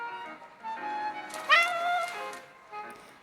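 A black cat in a video game gives a short, rising meow over soft background music.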